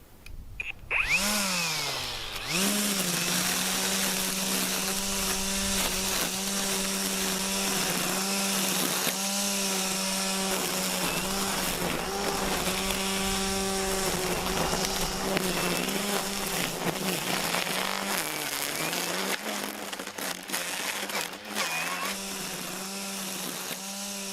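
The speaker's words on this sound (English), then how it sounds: "So this 15-inch cordless string trimmer is called an Ego" Ego 15-inch cordless string trimmer, model 1502, cutting weeds outdoors: a loud, steady electric whine that dips as it spins up at the start, then holds near-constant with slight pitch wobbles as the line meets weeds, running alone throughout.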